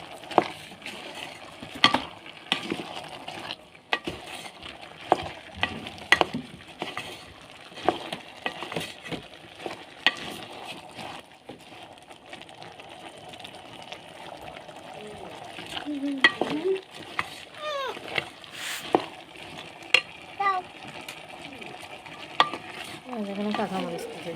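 Boiled potatoes, cut small, being stirred into seasoned meat in a pan for an Eid meal, with steady sizzling under irregular scraping and clattering strokes of a spoon throughout.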